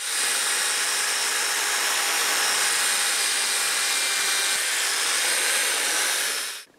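Rotary buffer polishing a plastic air cleaner part from a Mercedes-Benz W126 S-Class with Turtle Wax rubbing compound: a loud, steady whirring hum close by, running nearly seven seconds without talk before stopping abruptly.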